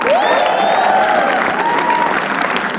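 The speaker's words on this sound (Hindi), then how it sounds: "तालियां उनके लिए प्लीज" Applause from a studio audience at a comedy roast show, dense steady clapping with crowd noise filling the clip while a voice and whistle-like tones sweep over it.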